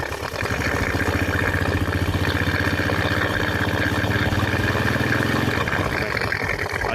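Honda Supra X 100cc motorcycle engine being throttled during a repair for low power, a loud close steady engine drone with rhythmic pulsing that holds and then drops off near the end.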